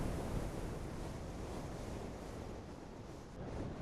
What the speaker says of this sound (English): this is just getting a bit silly in this wind